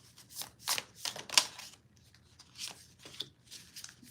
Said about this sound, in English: I'm happy to pull some cards for you.